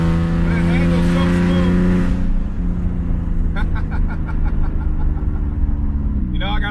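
A twin-screw supercharged BMW E46 330i drives with a loud, droning engine and whining pitch, heard from inside the car, while someone talks over it.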